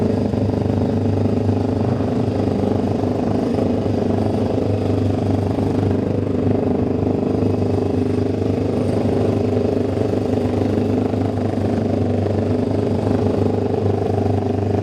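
A racing motorcycle at the Classic TT road races runs with a loud, steady engine drone that stays constant and close throughout, with no speech over it.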